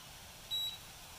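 A Bluetooth BBQ thermometer gives a single short electronic beep as it is switched on, faint and alone against a quiet background hum.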